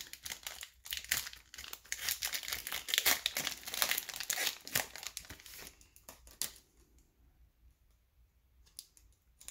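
A foil wrapper on a small four-card 2014 Panini Prism football card pack crinkles and tears close by, with dense rustling for about six seconds, then quieter scattered crackles.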